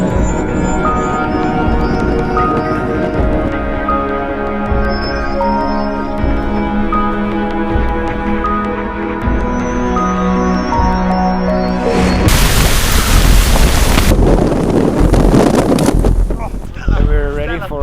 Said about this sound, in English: Too much wind